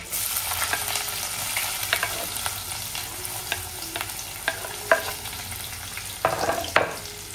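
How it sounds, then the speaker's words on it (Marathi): Onion frying in hot oil with mustard seeds and cumin in a pan, a steady close sizzle broken by scattered crackles and pops of spattering seeds and a few stirring scrapes, with no talking. "आता मस्त आपल्याला कांदा पण चांगला शिजवून घ्यायचा आहे"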